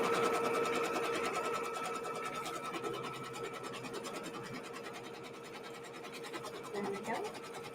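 A sewing machine runs steadily at close range, stitching a tack down stitch on a Blooming Star quilt, with a continuous rapid needle rhythm that eases slightly toward the end.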